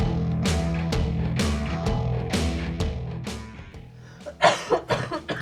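A person coughs several times in a podcast studio, sharp bursts near the end following a stretch of sustained tonal music, fairly close and moderately loud.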